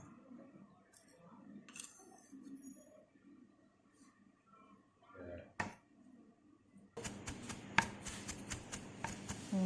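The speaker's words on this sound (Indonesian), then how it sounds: "Cincang bawang bombay, ahlinya nih, tuh. Separuh aja bawang bombaynya." A knife chopping onion on a board, a quick run of sharp, close taps and scrapes that starts after earlier quieter talk and kitchen clatter.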